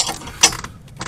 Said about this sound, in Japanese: あとナット、こっちは17ミリになってます。 で、締めていきます。